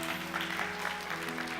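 Applause from a church youth-service congregation welcoming a pastor, soft and diffuse under a sustained musical tone, brief and steady.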